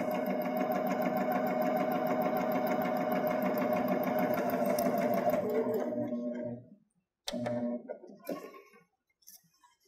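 A Baby Lock Jazz II sewing machine stitches a hem with a steady, loud mechanical whir for several seconds, then stops, followed by one short burst of stitching close by.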